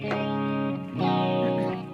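An electric guitar through a Quad Cortex Friedman Naked amp capture plays two sustained chords, washed in shimmering chorus with echoing delay and reverb trailing off.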